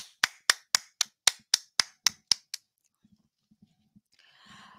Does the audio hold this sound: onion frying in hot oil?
no